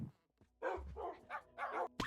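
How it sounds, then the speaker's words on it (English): Dogs bark in the Minecraft video game, giving a few short, clear yips and barks in separate bursts with brief pauses between them and no voices over them. "And then I started breeding my dogs because I had about like 50 or something of them in the original world."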